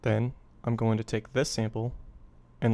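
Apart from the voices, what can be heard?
No everyday noise stands out behind the speech.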